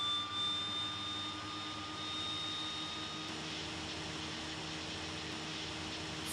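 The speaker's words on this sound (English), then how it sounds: "Okay, engine start." Steady jet-like roar of an aircraft engine starting up at moderate distance, a broad hiss with faint whining tones that hold fairly constant throughout.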